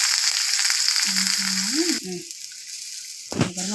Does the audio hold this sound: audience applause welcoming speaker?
no